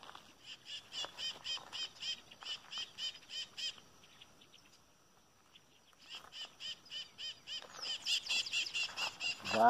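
Chestnut-capped blackbirds (Chrysomus ruficapillus) perched in a flock in open field shrubs give rapid, repeated chattering calls, fairly faint and distant, fading to a near-quiet lull midway before a denser, louder burst of calling returns.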